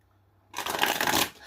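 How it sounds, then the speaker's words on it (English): A deck of tarot cards is shuffled in one quick, close riffling burst that follows a moment of near silence. "we're going to pull some cards on it and see what comes out"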